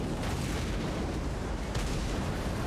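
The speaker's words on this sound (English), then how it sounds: "So another mortar, another off-map bombardment goes off on them." An off-map mortar bombardment in Total War: Warhammer 3, with heavy, continuous booming and rumbling explosions packed densely together at close range and no talking.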